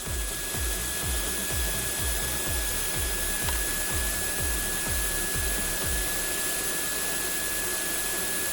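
A vacuum cleaner runs with a hose lint brush attachment, a loud steady motor drone with a rhythmic scraping pulse roughly every third of a second as the brush is drawn over lint, then continuing smoothly.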